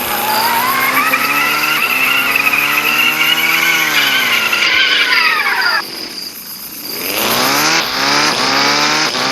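A car drifts in the video game Dude Theft Wars, its tires squealing loudly and continuously over engine noise, dipping briefly before the long screech rises again.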